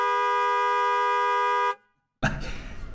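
Motorcycle horn in Tanzanian street traffic gives one long, steady, loud honk for nearly two seconds, cuts off to a brief silence, then noisy traffic rumble follows.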